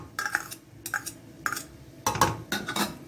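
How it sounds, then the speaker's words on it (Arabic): Spoon stirring chopped tomatoes and tomato paste in a cooking pot for meat kabsa, a series of close scraping, clinking strokes against the pot in irregular bursts, with no talking. "نقلبها كده في بعضها"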